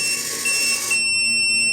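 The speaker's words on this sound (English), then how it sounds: "you just hear the beep and you heard this noise" High electronic beeps from a Julu smart dumbbell's keypad as its weight is changed in increments, with a few sharp tones close by over a faint background hum.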